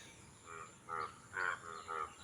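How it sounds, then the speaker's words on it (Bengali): Frogs croaking in paddy fields freshly flooded by rain, four or five faint, rough croaks spaced about half a second apart over a low background. "বৃষ্টির নতুন পানি পেয়ে দেখেন ব্যাংকগুলো কেমন ঘ্যাং ঘ্যাং করে ডাকছে"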